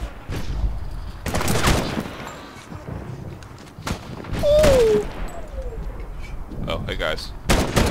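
Gunfire in the video game Medal of Honor (2010), a series of sharp shots and bursts with a whistling projectile, loud and close, while players talk over the action.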